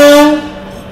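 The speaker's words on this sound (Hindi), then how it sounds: "फिर हमारी ट्रेन हमारा प्लेटफॉर्म अराइवल भी हो रहा है," Okha express train arriving at a railway platform, a loud horn blast with steady harmonic tones that fades out after about a third of a second, followed by a low rumble.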